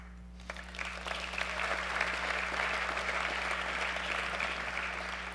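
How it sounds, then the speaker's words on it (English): Sustained applause from a gala audience at the 2024 AFSP Lifesavers Gala, swelling in after a brief quiet start and holding steady as a dense, even wash of clapping over a low electrical hum. "you guys clap when it says pause"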